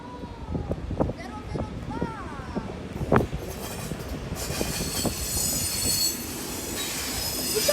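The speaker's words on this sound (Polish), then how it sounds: "zmiana lokomotywy." Train wheels squeal in high, wavering tones as a locomotive is swapped for an EP09 electric, alongside sharp metallic clanks and a rumbling rail bed. The sound builds into a broad, hissing roar, and voices can be heard nearby.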